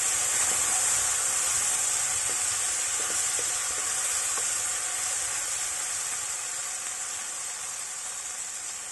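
Ginger-garlic paste sizzles steadily in a hot pan of oil while preparing restaurant-style paneer chilli, a dense, continuous frying hiss with a few faint stirring clicks, close and even throughout.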